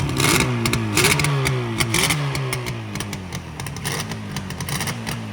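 A modified Yamaha RD 350 HT motorcycle engine revving up close: a series of sharp throttle blips with a rattly, buzzing exhaust note, each rise and fall following quickly on the last.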